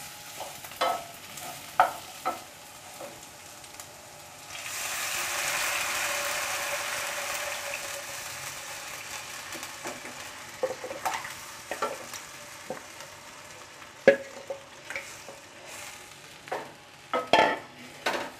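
Ginger and garlic sizzle softly in a pan while a spoon stirs and scrapes, with a steady frying hiss and intermittent clinks of the utensil against the metal, no talking.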